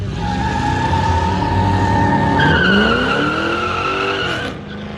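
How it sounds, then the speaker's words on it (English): Cars in a car show, a Mustang among them, drive past Latitudes bar in Alpena, Michigan: a loud, close engine roar that swells and revs upward in pitch as they pass, then eases off. "The car show just happens to be going by the bar we're at, Latitudes."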